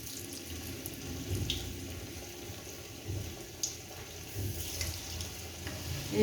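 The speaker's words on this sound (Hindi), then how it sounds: "ऑयल मेरा गर्म हो चुका है। अब इसके अंदर बॉल्स डालेंगे, एक एक करके डालते ही जाएंगे।" Potato balls fry in hot oil, a steady bubbling sizzle that swells in places, with a few soft clinks and splashes around it.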